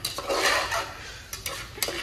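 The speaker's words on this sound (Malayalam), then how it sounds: "ഇങ്ങനെ ഇളക്കി കുത്തി മറിച്ചാണ്, കുത്തിയാണ് മറിച്ചുകൂടി ഇളക്കാൻ സൂപ്പർ ആയിട്ട്" A spoon stirs and scrapes through thick mutton curry in a pot, with soft wet squelches and a few sharp metallic clinks against the pan over about two seconds, close by.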